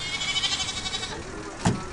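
A goat bleats in a wavering, quavering call heard close up at a bus stop, followed by a short sharp bump. Nobody speaks over it.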